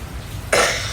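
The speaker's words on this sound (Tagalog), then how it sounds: "Excuse me po, medyo inuubo ko" A single close, loud cough bursts out after a short quiet lead-in, with a hint of a second one starting at the very end.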